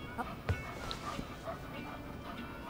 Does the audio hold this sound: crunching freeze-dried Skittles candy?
no